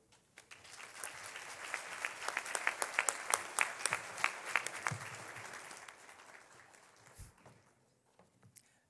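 A convocation audience applauds new university students, the clapping building quickly, swelling to a strong peak, then thinning out and dying away with a few last claps.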